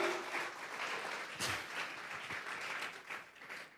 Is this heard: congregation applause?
yes